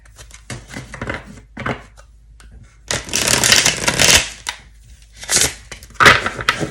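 Tarot cards being shuffled by hand up close: loud riffling bursts and soft slaps in irregular clusters, with short pauses between them.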